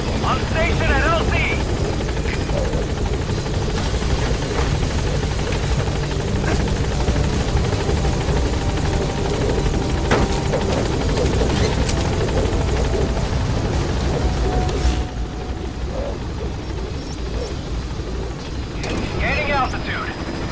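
Pequod helicopter from Metal Gear Solid 5 The Phantom Pain arriving at a landing zone: loud, steady rotor roar and engine drone filling the whole stretch, easing slightly near the end, with brief radio-style voices over it.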